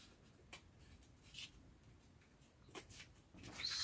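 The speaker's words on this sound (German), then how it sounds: "das geht eigentlich ganz gut mit einer Schere" Scissors cutting through paper in a quiet room: a few soft, crisp snips spaced irregularly, with faint rustling between them and a slightly louder burst at the end. No one speaks.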